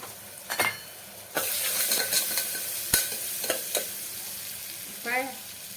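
Ginger garlic paste stir-fried in oil with chili powder, a steady close sizzle and frying hiss broken by scraping spatula strokes and a few light clinks against the pan.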